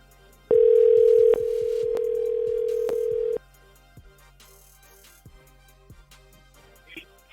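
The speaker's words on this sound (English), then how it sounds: "All right, we got some ringing." An outgoing telephone call rings in the earpiece: a steady electronic ring tone holds for about three seconds, then falls quiet, with soft background noise and no talk.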